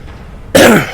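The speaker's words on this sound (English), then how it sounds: "First, I'm going to clear my throat." A single loud, close throat clearing bursts out after a moment of near silence and then trails off.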